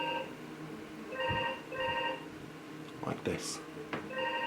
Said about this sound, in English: I'm going to ignore that phone because I'm halfway through this now.